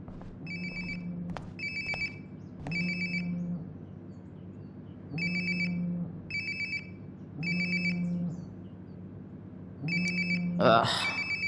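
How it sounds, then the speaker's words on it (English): In the video game Life is Strange: Before the Storm, a mobile phone rings close by with a repeating electronic ringtone in regular bursts, ending with a brief louder sound at the end. "Sounds like my phone is definitely nearby."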